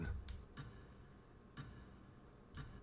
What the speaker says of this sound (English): I know that ticking sound.